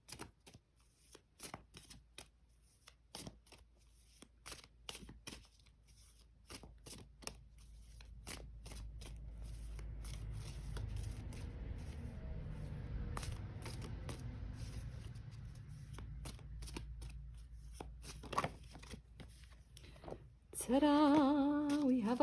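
A tarot card deck is shuffled for a collective reading, with many quick riffling flicks and light taps repeating at close range over a faint steady hum, ending in a louder burst of handling.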